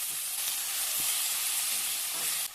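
Chopped vegetables hit hot oil in a pan with fish, green chilli and fried onion, giving a loud, continuous sizzle and hiss close up with no pause.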